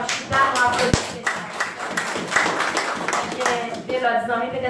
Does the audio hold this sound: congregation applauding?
yes